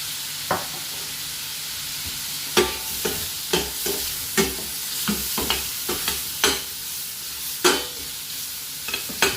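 Prawns stir-frying with ginger, chilli, butter and chili flakes, a constant loud sizzle broken by repeated sharp scrapes and clanks of a spatula in the pan every second or so.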